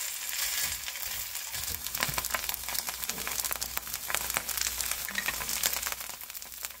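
Fried rice made with frozen, unthawed cold rice and scallions frying in a pan, giving a steady, close crackling sizzle with scraping and stirring throughout.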